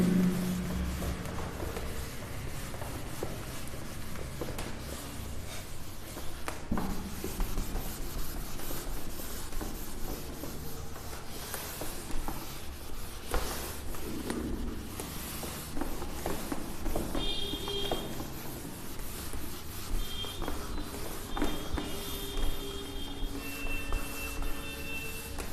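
Questions are written out on a board during a trigonometry lecture, with faint, continuous scratchy strokes and rubbing that run steadily throughout, no voice heard.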